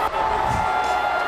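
A championship parade crowd cheers and whoops in a broad, steady roar, with a commentator's voice running over the noise throughout.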